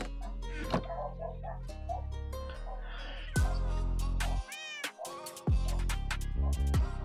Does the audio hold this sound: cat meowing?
yes